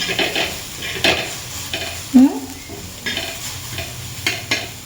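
Masala roasts in a pan for amti, a soft sizzle under repeated scraping stirs of a spoon, with irregular clinks and one brief squeak nearby.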